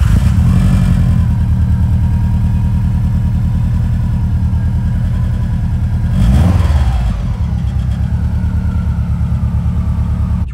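Subaru Impreza P1 engine running steadily while driving, with a brief swell around a gear change, its low mid-pitched drone continuous and close throughout, no voices.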